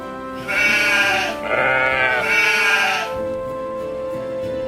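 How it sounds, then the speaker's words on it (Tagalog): Sheep bleating loudly and close in two long, wavering calls, followed by quieter bleats from the flock on a mountainside grazing outing. "Halika mga tupa ko! Tara na tayo sa bundok para kumain ng damo!"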